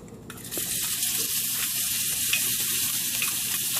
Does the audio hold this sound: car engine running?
no